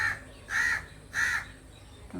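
Crows caw outdoors in three loud, harsh calls spaced evenly apart, each short and close, with quiet between them.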